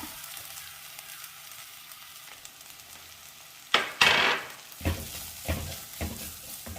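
Grated coconut stirred into a frying pan with ginger, garlic and shallots over low heat: a soft sizzle, then a sudden louder hiss and several scraping strokes of the spatula, close and without talk.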